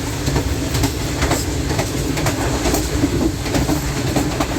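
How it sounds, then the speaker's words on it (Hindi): A train rumbles loudly and steadily with rhythmic clacking of wheels over rail joints, heard from on board as it rolls through a railway station between Multan and Lahore, Pakistan. "पीरा गायब रेलवे स्टेशन से गुजर रही है जी हमारी ट्रेन।"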